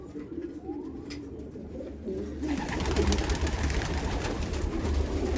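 Old-breed purple Istanbul pigeons cooing softly in a loft, low throaty coos at first, then a louder rustling, flapping bustle joins the birds for the rest.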